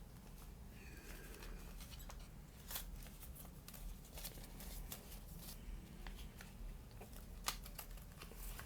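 Banknotes are handled, sorted and slipped into budget envelopes, with soft, close paper rustles, flicks and light taps continuing quietly throughout.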